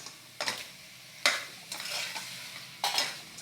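Chicken pieces dropped into a hot biryani pan, a few sharp sizzling bursts with brief stirring scrapes between them, close and fairly quiet, with no voices.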